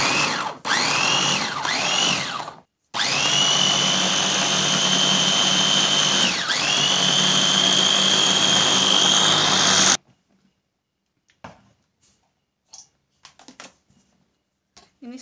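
A blender grinds spices into a paste for duck rendang, a loud steady whir running for about ten seconds with brief stops and pitch dips, then cutting out to quiet faint clatter.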